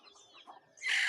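Chickens clucking close by in the evening, a few soft clucks and murmurs before a louder burst of squawking at the end.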